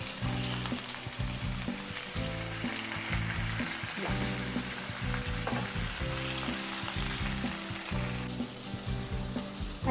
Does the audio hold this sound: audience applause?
no